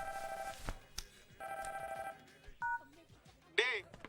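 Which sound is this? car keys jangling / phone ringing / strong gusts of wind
phone ringing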